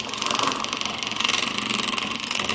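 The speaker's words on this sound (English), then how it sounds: "I have a little whisk that I used to use when I did keto for bulletproof coffee," A small handheld electric whisk buzzes continuously up close, frothing a protein drink with a steady rapid whir throughout.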